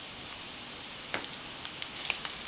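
Boiled potatoes frying in a pan with grated coconut and garlic, South Indian style, giving a soft steady sizzle with a few faint pops and crackles, close and alone.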